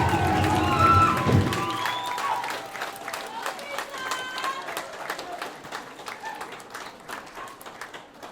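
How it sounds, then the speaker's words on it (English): Applause from the audience at a high school graduation ceremony for Mana Academy's class of 2026, starting as a full burst under a fading voice and thinning into scattered claps that continue to the end. "Please give them a round of applause"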